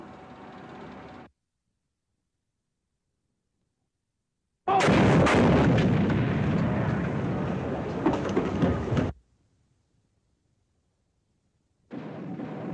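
Bombs exploding in an old American war film, a single loud, sustained blast-and-rumble lasting several seconds after a stretch of silence, with quieter background noise before and after.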